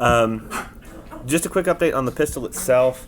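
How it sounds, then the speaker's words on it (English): Dogs bark and whine in the background while someone talks steadily over them indoors, the canine sounds brief and intermittent beneath his voice. "I apologize about the dogs"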